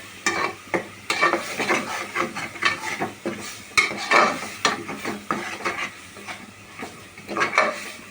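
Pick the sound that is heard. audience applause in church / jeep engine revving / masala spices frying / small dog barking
masala spices frying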